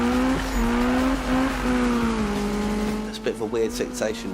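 A car in the Need for Speed video game, an Evo, brakes hard with a sustained high tire squeal over engine drone, followed by revving as it accelerates, with someone talking over it.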